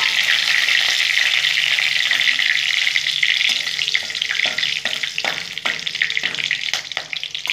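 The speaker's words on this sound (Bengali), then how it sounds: "তেলের মধ্যে একটু তেল দিয়ে আমি জিরা ফোড়ন দিয়ে দিলাম" Cumin seeds with whole garam masala (cardamom, cinnamon, cloves) sizzle loudly in hot oil in a pan, a dense steady frying hiss, with light stirring clicks toward the end.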